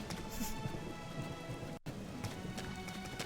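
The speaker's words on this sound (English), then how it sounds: "The rain." Steady rain in the Xenoblade Chronicles X game, a constant hiss of falling drops filling the whole stretch with a brief dropout in the middle and no talking.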